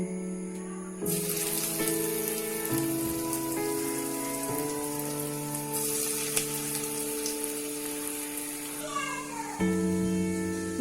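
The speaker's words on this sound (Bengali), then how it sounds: "এখন আমি আমার বড়ার ডোগুলো থেকে এই যে দেখুন এই পরিমাণ নিয়ে আমি তেলে দিয়ে দিব" Jute leaf pakora batter hits hot oil and fries with a continuous bright crackling sizzle, close and even, a faint background tone running throughout and a brief quiet gap at the start.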